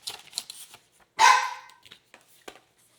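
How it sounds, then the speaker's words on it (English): A pet dog lets out a single loud, sharp bark close by indoors, standing out between quieter scattered rustling and handling sounds. "My dog likes to bark."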